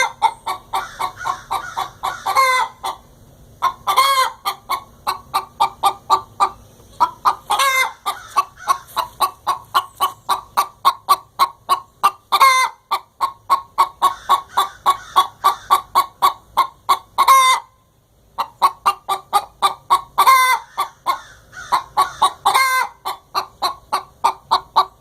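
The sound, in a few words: chickens clucking in chicken coop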